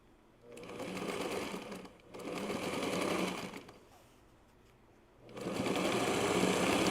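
A sewing machine runs in three bursts, a steady fast whirring hum with short pauses between, close and fairly quiet.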